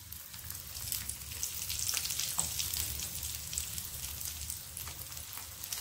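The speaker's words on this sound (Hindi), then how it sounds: "मैंने यहाँ पर गैस ऑन करके एक पैन ले लिया है और इसमें ऑयल डाला है और इसको फ्राई कर लेंगे।" A bread and potato snack fries in oil in a pan over a medium flame, giving a continuous, close crackling sizzle with small spitting pops and no talking.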